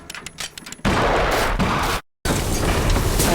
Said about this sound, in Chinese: 这时，杰罗姆骑马追来，爬上屋顶，对着屋内一通乱扫。